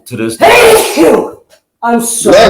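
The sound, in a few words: sneeze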